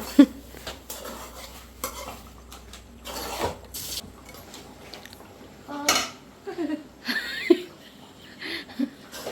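Chicken gravy of country chicken is stirred in a cooking pot, giving irregular metal-on-metal scrapes and clanks with quiet gaps between them.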